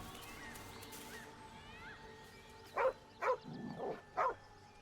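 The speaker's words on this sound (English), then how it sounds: "Oh, a dog." A dog barks in the fantasy role-playing video game Baldur's Gate 3, four sharp barks at moderate distance with a low whimpering sound between them, following quiet game ambience.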